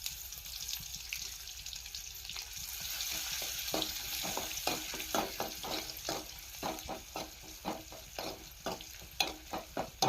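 Crushed garlic fries in a pan with a soft, continuous sizzle, while irregular stirring clicks and scrapes come close and clear, growing more frequent toward the end.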